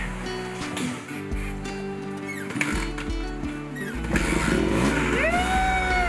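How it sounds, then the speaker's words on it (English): A BMW R1200 GS adventure motorcycle's engine starts on a steep hill in Armenia, Colombia. It turns over and settles into a steady running drone that swells louder toward the end, over a bed of tonal background sound. "Finally the bike started."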